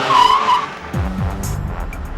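Car driving, a loud close engine with a skidding, squealing tire sound and a rising engine tone partway through, no talk over it.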